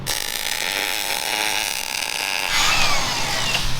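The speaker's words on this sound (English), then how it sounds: "I just got done grinding up the bottom of the frame where the welds were" A power grinder works loudly and steadily against weld spots on the frame of a supercharged Bronco II, one continuous high whine that shifts in pitch near the end as the disc bites harder.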